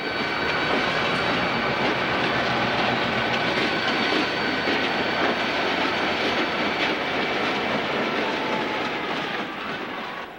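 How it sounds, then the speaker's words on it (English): A Southern Pacific diesel locomotive train rolls along Donner Pass, a loud, steady rumble with rail clatter and a faint wheel squeal, close and continuous throughout and easing slightly at the end. "Another model of rebuilt locomotive is the SD7, which SP used for hump and yard service even into 1997."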